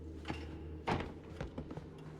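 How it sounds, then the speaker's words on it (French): Doors open in the Resident Evil 7 video game, with a few dull thunks and creaky knocks of heavy wooden doors, one louder bump in the middle, over a low humming background. "il ouvre des portes"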